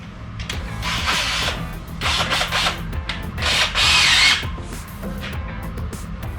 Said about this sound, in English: I'm just gonna drill these out right now while we're waiting.